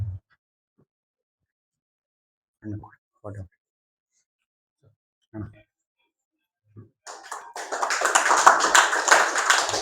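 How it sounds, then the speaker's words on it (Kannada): Scattered taps and a few voice sounds give way to a burst of applause from an audience at a birthday felicitation event, loud and sustained at the end. "ಚಪ್ಪಾಳೆ ತಟ್ಟುವುದರ ಮೂಲಕ ಅವರಿಗೆ ಆಶ್ರಮದ ವತಿಯಿಂದ ಅಮರೇಶ್ ಸ್ವಾಮಿ ಅವರಿಂದ ಹೂಗುಚ್ಚ ಕೊಡೋದ್ರ ಮೂಲಕ"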